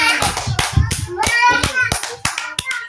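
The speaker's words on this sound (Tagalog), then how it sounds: "Palakpak." Audience clapping after a dance competition score, a burst of sharp hand claps close by, mixed with children's voices talking over it.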